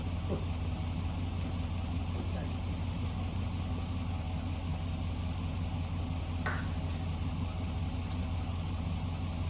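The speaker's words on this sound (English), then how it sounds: "I'll show you a little bit of the snow blowing" An electric-start snowblower runs continuously at a steady mid-pitched engine drone, fairly distant and even throughout, with a brief sharper noise partway through.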